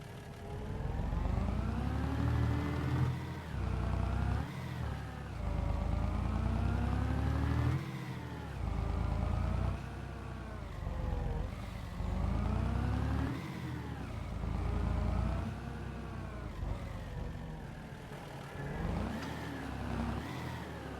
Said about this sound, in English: One of the funniest sounding trucks I've ever heard.